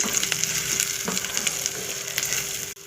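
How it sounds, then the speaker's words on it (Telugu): Ridge gourd dal with turmeric being stirred in a pan, a steady sizzle with soft scraping strokes running throughout, close and fairly loud, cutting off abruptly near the end. "కొంచెం పసుపు వేసుకొని కలుపుకోవాలి"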